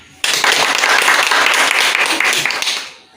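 Applause from a classroom audience for a student during a teaching demonstration bursts in suddenly, a dense steady wash of clapping that holds loud for under three seconds before fading out.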